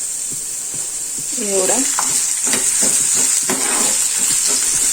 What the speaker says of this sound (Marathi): आता मी ह्याच्यामध्ये थोडं तेल टाकणार आहे